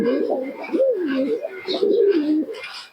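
Close, loud pigeon cooing, a series of soft rolling warbles repeating over a few seconds.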